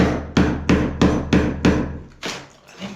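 Screwdriver struck against hard render on a block wall, six evenly spaced sharp knocks in a row followed by a scraping sound and one softer hit, close and fairly loud, no talk.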